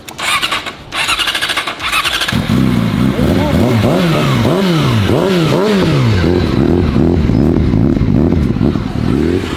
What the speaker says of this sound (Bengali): চলো বাইকটা স্টার্ট দিয়ে তোমাদের বাইকের সাউন্ডটা শুনে দেখো, সাউন্ডটা কি জোস।